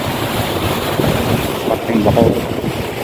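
Rushing river floodwater surges along River Drive in Bacoor during Typhoon Goring, a loud, broad, continuous roar mixed with wind buffeting the microphone and a few faint voices underneath.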